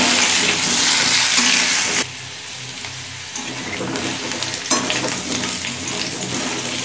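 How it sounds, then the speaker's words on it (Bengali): Pieces of raw elephant foot yam fry in a pan with steady, loud oil sizzling for about two seconds, then a quieter, crackling sizzle with occasional stirring scrapes, with no voices. "আমি 6-7 মিনিট সময় ধরে ওলটা ভেজে নিয়েছি"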